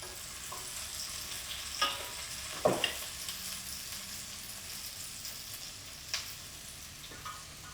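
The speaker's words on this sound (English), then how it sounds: "The veg are sweating." Vegetables sweating in a pan for a pig's trotters dish, with a soft continuous sizzle broken by a few brief scrapes and clinks of stirring.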